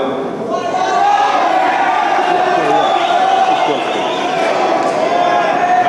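A concert crowd at a show in Cleveland's Music Hall roars and cheers continuously, a loud, dense wash of shouting that swells briefly and holds steady throughout.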